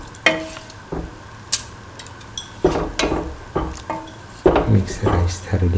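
Washed, soaked rice stirred into a simmering egg, potato and coconut milk mixture in a pot, with scraping, clinking spoon strokes against the metal and a low sizzle, in irregular bursts.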